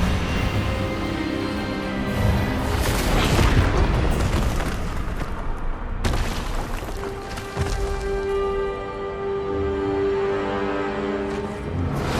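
A disarming spell is cast in the video game Hogwarts Legacy: a heavy magical boom and crackling burst that rings out into sustained tonal shimmer, with a second sharp impact midway, all loud and close.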